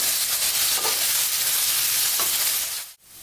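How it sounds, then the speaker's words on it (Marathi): Chopped onion sizzles loudly in a hot pan while being sautéed until pink for Maharashtrian-style eggplant bharit, a steady close hiss that cuts off for a moment near the end. "कांदा आपण चांगला गुलाबी वरती परतून घेणार आहे"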